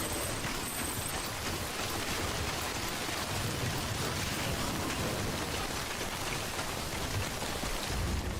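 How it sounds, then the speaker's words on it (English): Heavy, steady rain falls in the video game Death Stranding, a dense and even downpour that hisses loudly and without a break. "Why is it raining here then?"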